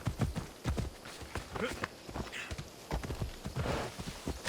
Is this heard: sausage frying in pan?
no